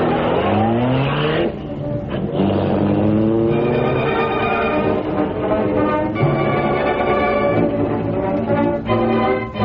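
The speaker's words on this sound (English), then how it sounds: "Well, on all the speed we can get out of the Black Beauty. Now step on it, Cato." A car engine roars and revs hard as the vehicle speeds off, its pitch climbing through gear changes with tire noise, loud and continuous in an old-time radio drama chase effect.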